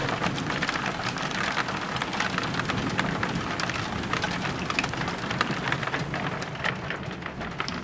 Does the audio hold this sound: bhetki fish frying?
no